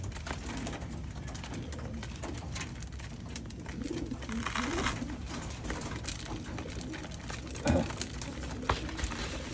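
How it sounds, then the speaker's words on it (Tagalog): Pigeons coo softly in a breeding loft at feeding time, a steady low chorus with faint pecking and patter underneath and one brief louder knock near the end. "Yun, lalakas kumain mga kalapatids."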